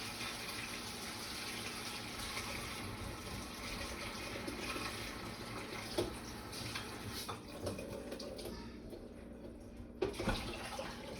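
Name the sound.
washing vegetables under running water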